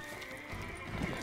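A horse neighs briefly in The Witcher 3 video game, a short, fairly faint whinny with soft hoof clops.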